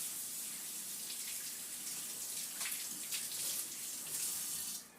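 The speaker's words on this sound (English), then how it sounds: "Now I'm gonna rinse my hands." Water runs steadily from a kitchen tap as hands are rinsed under it, a close, even hiss with splashy shifts as the hands move, stopping abruptly at the end.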